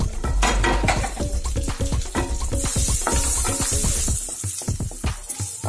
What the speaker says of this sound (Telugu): ఇలా జీడిపప్పు కొంచెం ఎర్రగా వేగిన తర్వాత కిస్మిస్ వేసుకోవాలి